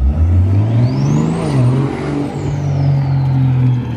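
A loud supercharged car engine revs on the street with a rising and falling whine from the supercharger, close and continuous, with no voices.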